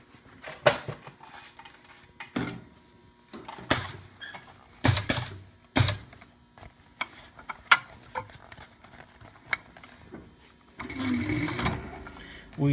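A SEWPRO 204-PB-2 post-bed leather top-stitching sewing machine with a needle positioning motor runs in short bursts of mechanical whirring and clacking, separated by quieter gaps, with creaks and handling noises, close and moderately loud.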